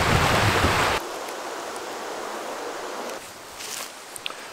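Water stirring and splashing as someone wades knee-deep across a stream in northern wilderness, a broad rushing wash loud at first, then steadier flowing water with faint sloshes and small knocks near the end; no voices.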